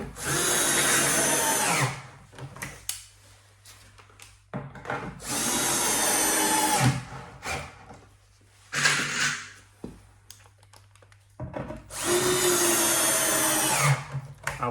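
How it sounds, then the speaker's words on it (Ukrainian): Power drill driving confirmat screws into bed panels during furniture assembly, in three loud sustained whirring bursts with quieter gaps of handling between them; no talking. "Після цього затягуємо інші конфірмати."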